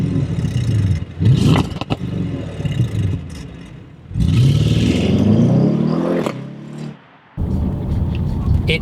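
An Audi RS6 V8 engine revs and burbles from inside the car, rising in pitch through two strong pulls with a brief lift in between, loud and close, with clattering and scraping mixed in.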